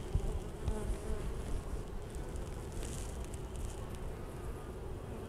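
Honey bees buzzing around an opened nuc hive, a dense steady drone with a few louder passes near the microphone, continuous throughout at moderate level.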